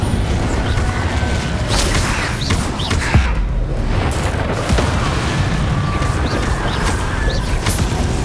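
Incendio fire spells cast in the video game Hogwarts Legacy whoosh and crackle within a loud, busy combat din of booms and impacts, with several sharp bursts spread across the stretch.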